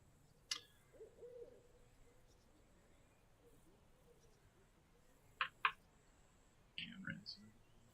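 Owl hoots and bird calls play softly in the video game Truberbrook, with a few faint, sparse calls and chirps spread over a quiet background.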